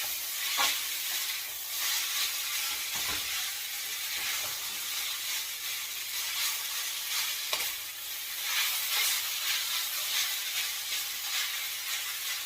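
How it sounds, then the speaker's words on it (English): Beef lo mein stirred in a wok with garlic and ginger, a steady close sizzle and hiss of frying with occasional scraping stir strokes throughout, no talking. "stir it around in that garlic and that ginger"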